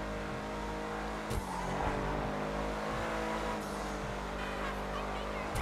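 Cars in GTA 5 Online roar and rev continuously at high volume, with engine pitch rising and falling as vehicles accelerate and pass, joined by occasional tire squeal.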